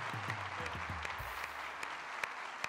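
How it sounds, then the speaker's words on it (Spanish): A television talk-show studio audience applauds for the children, steady crowd clapping with a low rhythmic thumping underneath and a few sharper claps standing out. "Un aplauso para los chiquitos"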